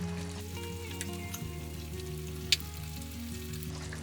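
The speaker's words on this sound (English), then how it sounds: "Been simmering away for, I don't know, about 25-30 minutes" Pork mechado simmering and sizzling in a pan, a steady close crackle of frying that runs throughout, with a low bubbling hum beneath and a sharp utensil tick near the middle.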